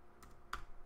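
Quick keystrokes on a computer keyboard, a couple of soft clicks followed by a sharper tap, close and quiet with no voice over them.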